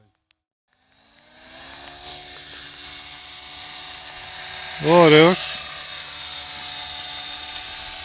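A small toy helicopter's propeller whirs in water, a buzzing, rising drone that swells into a brief louder wavering burst midway, with a person speaking briefly over it.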